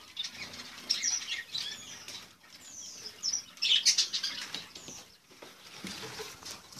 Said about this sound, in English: More quails.